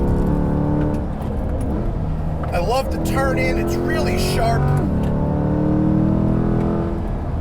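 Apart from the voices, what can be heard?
sports car engine revving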